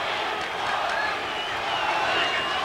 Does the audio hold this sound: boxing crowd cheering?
yes